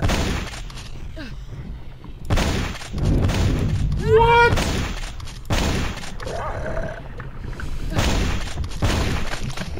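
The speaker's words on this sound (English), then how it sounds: "This shotgun really doesn't have much of a spread to it." Shotgun blasts in the retro shooter Hedon, heavy booms at intervals mixed with growls, grunts and pained cries from enemies in loud, chaotic game combat.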